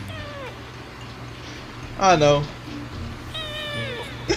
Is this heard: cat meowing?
yes